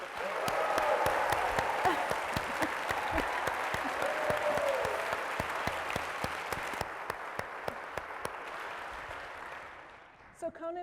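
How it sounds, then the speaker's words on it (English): A large audience applauding Conan O'Brien at a Harvard event, sustained dense clapping with occasional sharp claps standing out, gradually thinning and fading near the end as a voice begins. "So how about another round of applause for him?"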